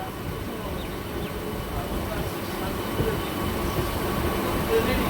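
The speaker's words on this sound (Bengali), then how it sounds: "এই মুহূর্তে দেখতে পাচ্ছেন একদম ঢুকছে train Krishnanagar city junction rail স্টেশনে" A Ranaghat–Shantipur–Krishnanagar local train rolls into Krishnanagar City Junction station with a steady, moderately loud rail rumble and faint squeals, heard from on board.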